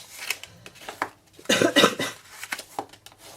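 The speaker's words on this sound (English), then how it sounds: "I'm so sorry for coughing." A few loud coughs from a person with a cold burst out close by, mixed with clinking of dishes and cutlery being handled.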